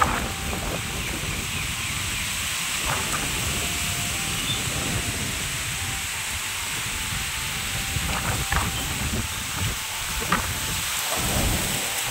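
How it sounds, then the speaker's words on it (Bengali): Dry windstorm from Cyclone Remal with no rain falling, a constant broadband roar of gusting wind with occasional sharp knocks and rattles, steady and enveloping throughout. "তো দেখতেই পাচ্ছ ঝড়টা।"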